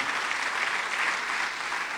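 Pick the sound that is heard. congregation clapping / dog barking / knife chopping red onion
congregation clapping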